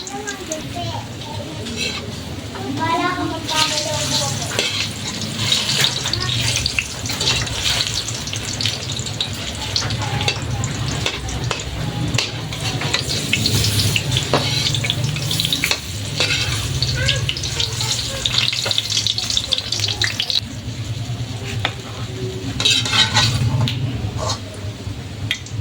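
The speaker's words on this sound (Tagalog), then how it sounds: "Pituhin lang natin ito hanggang sa mag-golden" Saba bananas frying in oil until golden brown, a continuous close sizzle with occasional stirring clinks and a busy household background with faint voices throughout.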